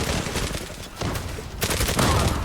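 Dense, continuous gunfire in the online shooter Zula, with overlapping rapid bursts of automatic weapons filling the whole stretch and a brief dip before a louder flurry.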